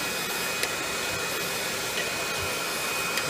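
Vacuum cleaner running steadily during spring cleaning, a constant broadband whoosh with a few faint clicks and bumps, no talk.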